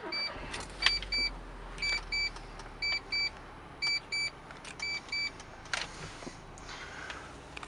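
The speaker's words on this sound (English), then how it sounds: "So if we put the key in the ignition," A Mitsubishi Colt CZC Turbo is switched on with the key, setting off a steady run of short electronic chime beeps from the dashboard, clear and close inside the car with a soft background hum.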